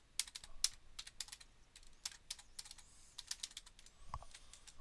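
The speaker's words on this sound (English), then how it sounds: "I type it in." Fingers typing a password on a computer keyboard during a Windows Server 2008 installation, a quiet, uneven run of close key clicks with brief pauses and no talk.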